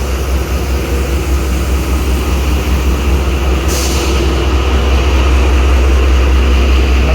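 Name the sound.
ZCU30 6323 locomotive at Lahore railway station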